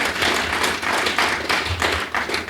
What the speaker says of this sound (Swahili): Ningetegemea nipate makofi makubwa hapo